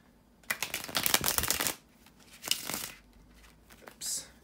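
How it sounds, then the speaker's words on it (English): Tarot cards being shuffled by hand, two brisk riffling bursts followed by a softer flutter, close and quiet with no talking. "to shuffle the tarot cards."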